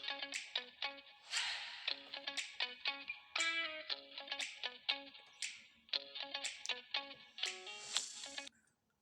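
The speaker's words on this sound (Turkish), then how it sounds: "Telefon çaldı kusura bakmayın." A mobile phone rings with a repeating electronic melody of short, bright tonal notes in a steady looping rhythm, fairly faint and alone for about nine seconds before cutting off.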